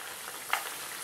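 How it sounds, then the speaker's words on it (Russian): Vergun dough pastries frying in hot oil over a low flame, a soft, steady sizzle that stays faint and close throughout, with one brief louder crackle midway. "Как только масло нагреется, начну жарить вербуны"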